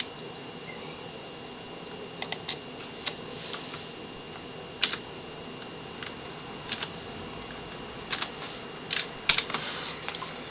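Keystrokes on a computer keyboard as an access code is typed, scattered taps in short bursts with irregular pauses, close and fairly quiet over a faint steady hum, no voices.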